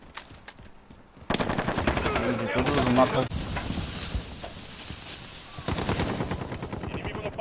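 Rapid automatic gunfire rattles through a Call of Duty Modern Warfare online match, sustained loud bursts with other shots, while a player talks over the action.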